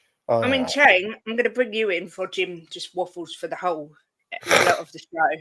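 A person sneezes once, a sharp loud burst near the end, following steady conversational speech between men discussing football injuries on a talk show.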